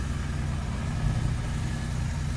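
A Royal Enfield Interceptor 650 fitted with a Powerage short slip-on exhaust idles, a loud, steady deep rumble with no gaps, close to the bike and with no one talking.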